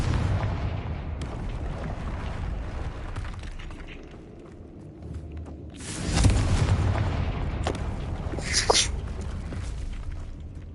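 A fiery blast from a spell in the game Hogwarts Legacy, a loud booming burst rising out of rumbling game ambience, followed a couple of seconds later by a brighter crackling impact.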